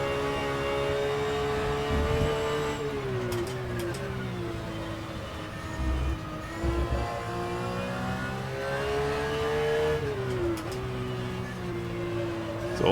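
A racing video game car engine drones through a lap on a MOZA CS direct-drive wheel, its steady tone rising and falling as it revs through gear changes, with faint thumps from the wheel underneath.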